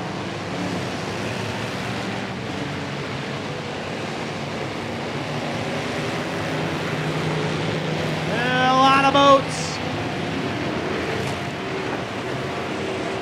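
Steady drone of racing boat engines running together across the whole stretch at a race at Rockford Speedway, with crowd noise and a brief rising whine midway.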